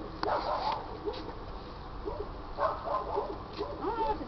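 Several dogs bark and yip outdoors in short bursts, moderately close, with one early sharp bark and later clusters of yelps over steady background noise.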